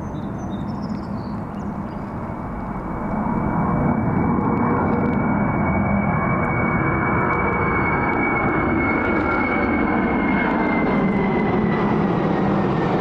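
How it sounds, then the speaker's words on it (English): Air Force One, the Boeing 747 VC-25 flying touch-and-go circuits, roars overhead as a loud, broad, sustained jet-engine rumble with a steady high whine, swelling after a few seconds and holding. "the VC-25, which is known more commonly as Air Force One, the big 747"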